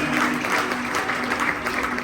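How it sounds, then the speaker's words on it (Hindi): Church congregation applauding the choir at an Easter service, dense steady clapping filling the room throughout with no pause. "क्वायर के लिए जोरदार ताली बजाएं"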